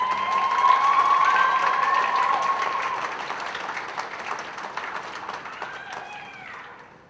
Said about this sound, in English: I want you to just please give a round of applause to all those